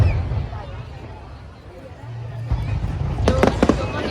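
Fireworks burst in a quick cluster of sharp cracks over an outdoor crowd at Sunset Town, with steady babble and chatter from nearby spectators running underneath.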